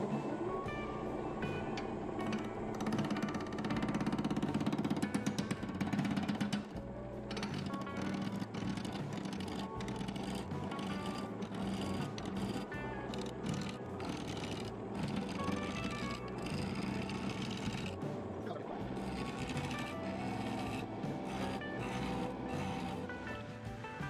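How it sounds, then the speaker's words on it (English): A wood lathe turns at 1000 RPM while a 1¼-inch spindle roughing gouge cuts, a loud, continuous droning hum with dense rough scraping texture and occasional brief changes in the cut. "I'm going to be turning at 1000 RPM using my 1¼-inch"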